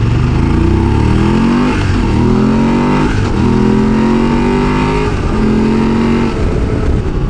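A Euro 5 compliant motorcycle cruises in sixth gear at about 3,500 rpm, its engine a loud, continuous, steady drone with no pauses throughout.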